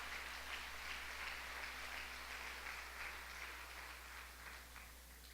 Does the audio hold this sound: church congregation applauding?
yes